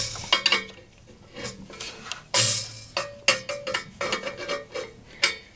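A 3/4 inch wrench works on a bus during an oil change, giving irregular metallic clicks, ratcheting taps and clanks close by, with a sharper clatter partway through.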